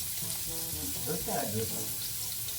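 Garlic and aromatics sautéing in a pan for a Filipino vegetable soup, a steady close sizzle and crackle of hot oil with a faint stir partway through, no talk.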